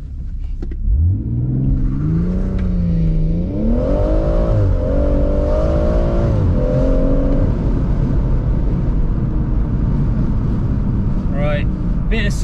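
A BMW M140i accelerating hard from a standstill on a country road, its engine loud and close as the revs sweep up through several gear changes, with someone talking over it.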